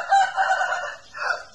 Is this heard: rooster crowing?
yes